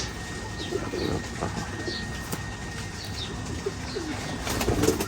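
Ferozpuri pigeons cooing in a loft, overlapping low coos with occasional faint chirps and brief wing-flap sounds against a busy background.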